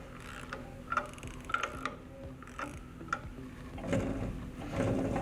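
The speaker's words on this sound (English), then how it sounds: "tighten it back down with hand tools." A shock shaft nut is tightened with hand tools in a run of soft metallic ratchet clicks and clinks, irregular and close, ending in a rougher scraping rustle.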